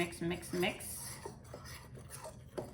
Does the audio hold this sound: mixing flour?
yes